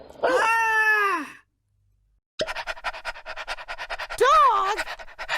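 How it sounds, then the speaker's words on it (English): A dog pants rapidly in quick, close, rhythmic breaths after a drawn-out voiced cry and a pause, with another short wavering vocal call rising over the panting. "Dog!"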